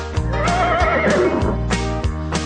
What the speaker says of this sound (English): Right, the horses go as they gallop around the farm.